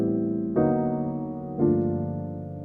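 Sustained piano chords, each struck once at roughly one-second spacing, with the second and third chords moving through a tritone-substitution passing progression, ringing and fading gently between strikes, played alone.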